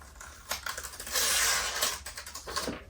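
Crackly, papery tearing as heat transfer paper is peeled slowly off a mug, building to a sustained rasp mid-way, with small ticks and clicks before and after.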